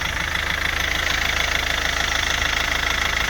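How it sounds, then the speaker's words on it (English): An MG ZT-T car engine idles steadily up close, a smooth, constant low rumble with a faint rhythmic pulse and no talking. "engine's running quite smooth actually."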